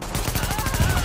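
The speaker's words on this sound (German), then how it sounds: "Die verpassen noch ein paar Schüsse." Rapid bursts of gunfire in The Division on PS4 crackle in quick succession, loud and continuous, with a sharper burst near the end.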